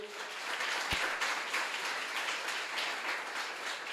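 Applause from a congregation at a Sunday morning church service rises as a steady, even wash of clapping that keeps going throughout. A brief knock sounds early on.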